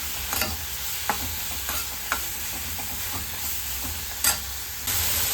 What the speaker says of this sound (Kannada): ಚೆನ್ನಾಗಿ ಒಂದು ಮೂರು ನಿಮಿಷ ಫ್ರೈ ಮಾಡ್ಕೊಂಡ್ರೆ ಸಾಕಾಗುತ್ತೆ